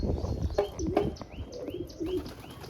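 Pigeons kept in a loft coo softly in short repeated bursts, with a few chirps and a brief flutter of wings, all at moderate distance and without talk.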